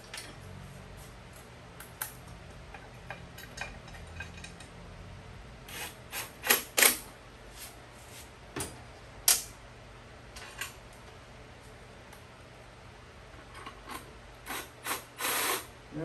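A small hand ratchet turns a bolt on a Lifan engine during a CT70 engine swap, producing short, close bursts of rapid clicking separated by quiet pauses, louder toward the end.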